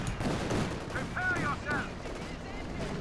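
MG34 machine gun fire in the Company of Heroes 2 World War II strategy game, a steady rattle of rapid shots mixed with other battle noise and whistling sounds, at moderate loudness.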